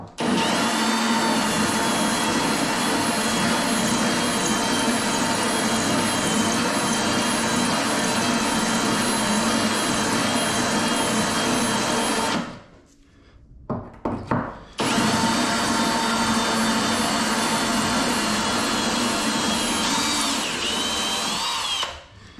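A power drill bores loudly through a concrete bathroom floor during a shower installation, grinding steadily and close, stopping briefly partway through before starting again at full strength.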